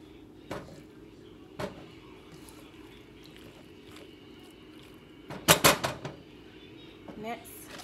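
A spoon clinks and scrapes against a dish while macaroni is stirred with a four-cheese blend. Scattered taps build into a quick cluster of clatter near the end.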